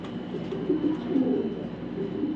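Racing pigeons coo in low, soft, repeated throaty calls, close by and continuous over a faint background hum.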